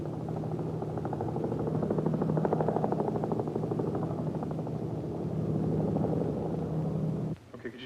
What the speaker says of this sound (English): Sometimes a police helicopter will be sent out to try and locate the criminals from the air.